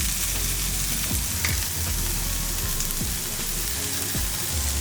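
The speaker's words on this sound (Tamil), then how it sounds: "நீங்கள் அழுத்தி விடாமல் இந்த மாதிரியே நீங்கள் ஃப்ரை பண்ணிங்கன்னா ரொம்ப நல்லாயிருக்கும்" Protein chicken fry cooking in a home pan, left unpressed, with a constant crackling sizzle close by and a few faint stirring knocks, and no voices.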